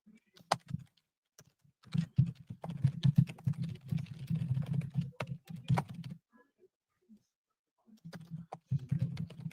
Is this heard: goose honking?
no